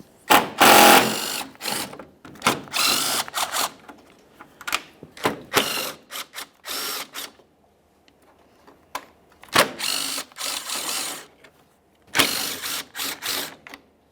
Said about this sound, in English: you'll find you have several 10mm headed mounting bolts making their way across. Remove all of them.